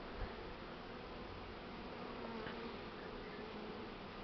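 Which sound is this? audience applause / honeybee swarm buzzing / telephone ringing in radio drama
honeybee swarm buzzing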